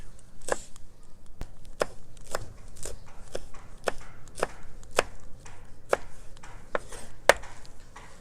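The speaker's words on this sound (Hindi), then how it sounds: "ये भी बारीक चॉप करेंगे" About four green chilies, stems removed, being finely chopped on a board: sharp knife chops land in a steady, evenly spaced rhythm, crisp and close, with no talking.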